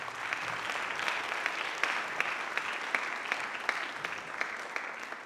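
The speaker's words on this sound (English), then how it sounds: "One more round of applause for him." An audience at a band concert applauds a musician, sustained clapping of many hands at moderate distance, even and continuous for several seconds with no talk.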